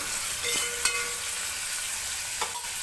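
Onions, green chilies and curry leaves fry in a couple of teaspoons of oil for egg biryani, a steady close hissing sizzle with a few faint clinks of a stirring spoon, no voices.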